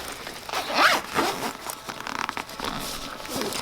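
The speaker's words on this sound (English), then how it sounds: "let's zip this back up" Zipper drawn shut along a green Ayla and Co diaper bag, a close, raspy zip with a few quick pulls and scuffing fabric rustles, no talk.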